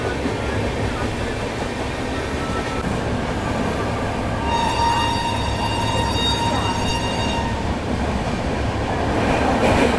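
Two trains run side by side on parallel tracks during a Darbhanga–New Delhi clone special train journey, giving a loud, steady rolling rumble with a high metallic wheel squeal partway through.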